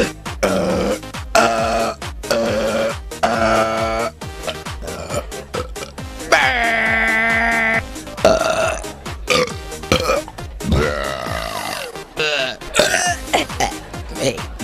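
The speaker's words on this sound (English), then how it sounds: "welcome to the burping contest" Loud, long burps from contestants at a burping contest, one after another with short gaps, several stretched into drawn-out belches lasting over a second, with groaning and grunting vocal sounds mixed in.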